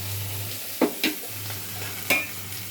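Drumstick curry stirred in a pan, three brief spoon scrapes and taps over a quiet background hum, close and sparse, with no voices.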